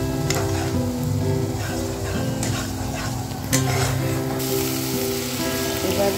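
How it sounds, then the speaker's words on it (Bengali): Spice paste with salt and cashew paste frying in oil, a steady close sizzle with scraping stirring, for a prawn malai curry cooked in coconut milk. "এবার মশলাটা ভালো করে কষাবো যতক্ষণ না মশলা থেকে তেল ছাড়ে।"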